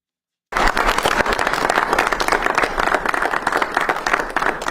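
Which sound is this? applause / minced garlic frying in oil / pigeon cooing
applause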